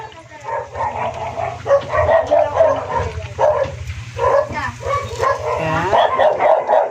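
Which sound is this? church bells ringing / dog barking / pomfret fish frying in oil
dog barking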